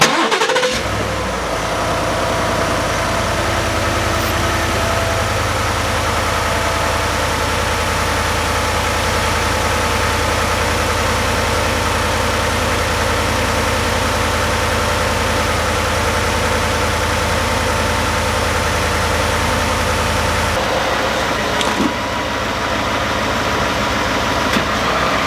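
A Ford F-150's 5.0L Coyote V8 idles steadily and close by, a smooth continuous rumble with no talk, settling slightly quieter near the end.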